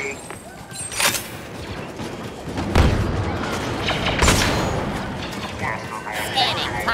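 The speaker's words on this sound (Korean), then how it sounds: "수류탄!" Grenade blasts in the Star Wars Battlefront II shooter, two sharp booming detonations a second or so apart amid continuous battle noise and gunfire, with voices calling out over the action.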